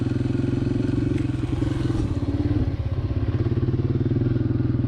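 A Yamaha TTR motorcycle ridden on a winter sunset trail, its engine a steady, close droning putter with some clattering and scraping over the rough ground.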